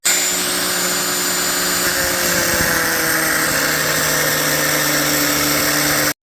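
A pneumatic impact gun works at stubborn torque converter bolts during transmission removal from a muscle car, producing a continuous loud whirring drone with a steady hum, held for several seconds before cutting off abruptly.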